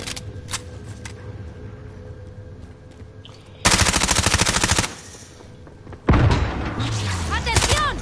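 Gunfire in Call of Duty Warzone zombie royale mode, loud rapid bursts of automatic fire in two long volleys, close and dense, with game sounds and a voice between them.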